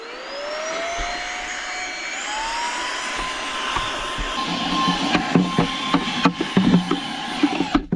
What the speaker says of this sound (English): so we're gonna take out the vacuum, we're gonna clean this up.